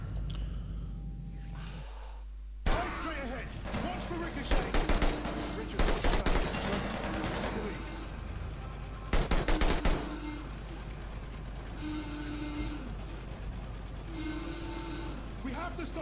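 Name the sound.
gunfire from enemy blind firing in Call of Duty Vanguard video game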